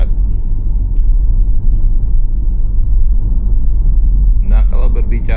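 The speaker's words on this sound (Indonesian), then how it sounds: "Jadi gue cuma injak dikit aja, mobil ini langsung narik ya." A BYD Sealion 7 electric car accelerates at night, heard from inside as a steady, loud, low road-and-tire rumble with no engine note, plus a few brief clicks near the end.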